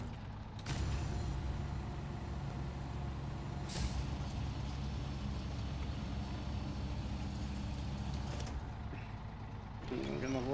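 Truck air brake releasing as the handbrake is set: a sudden loud hiss of escaping air over a steady idling diesel rumble, with further brief hisses later and someone talking toward the end.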